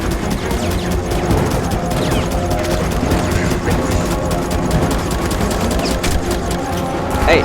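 Dense, continuous volleys of gunfire in the video game Firefall, with rapid cracks and booms, loud and close, overlapping throughout like a heavy firefight.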